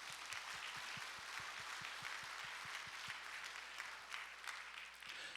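A church congregation applauds to welcome newly registered members during a Sunday morning worship service, giving a soft, distant, even wash of clapping that continues steadily and fades slightly near the end.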